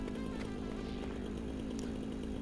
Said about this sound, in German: Kettensäge raus